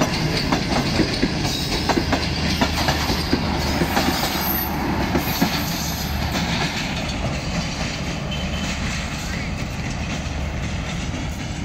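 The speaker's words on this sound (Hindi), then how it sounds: "ये ज़करिया एक्सप्रेस गई" The Zakaria Express passes through Khanpur railway station, a loud, close rumble of rail cars with rhythmic clickety-clack and faint wheel squeal sustained throughout, with no clear voices.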